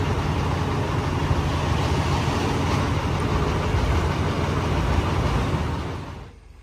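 A tractor with a potato planter hitched behind idles nearby in a field, a steady, loud low rumble and chug that runs evenly before fading out at the end.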